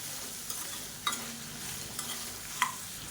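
Urad dal roasts in a pan over a low flame, giving a soft, steady sizzle with a few faint scrapes of stirring, quiet and close with no talking.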